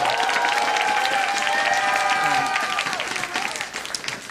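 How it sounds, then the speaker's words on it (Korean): A concert audience claps steadily, loud and continuous, while a voice carries over the top before the applause tapers off. "우리 코리안 분들도 좀 박수 좀 쳐주세요"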